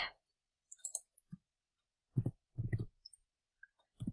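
A few soft, sparse mouse clicks on a spreadsheet cell, quiet and close, separated by silence.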